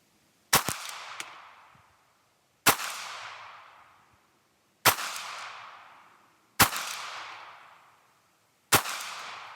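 Five loud, sharp Mk18 rifle shots fired at targets, spaced roughly two seconds apart, each a crisp crack with a ringing decay that trails off before the next; the first shot is followed by quick extra clicks.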